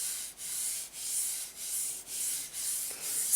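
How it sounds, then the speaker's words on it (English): Rhythmic back-and-forth sanding of a painting surface with medium sandpaper or a sanding pad, close and steady, each stroke a soft hissing rasp with brief dips between passes. "medium sanding paper or sanding pad, and I sand again"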